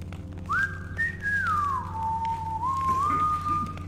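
A guard in the Thief video game whistles a single clear, sliding melody line, rising and then gliding down, moderately close over a low background hum.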